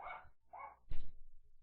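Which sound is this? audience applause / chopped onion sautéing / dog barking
dog barking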